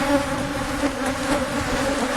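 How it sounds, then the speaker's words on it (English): Bees swarm in an opened hive box, making a dense, continuous buzzing hum that is loud and close, steady for the whole moment without any talk. "You can probably hear the bee activity."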